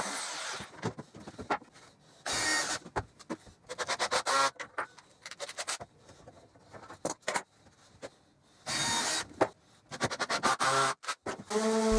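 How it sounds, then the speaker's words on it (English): An orbital sander rounds over the wooden corners of a dog house entrance in short, uneven bursts of rough scratchy sanding, broken by frequent pauses and quieter handling noise. "Then I used my orbital sander to round over the corners to the entrance."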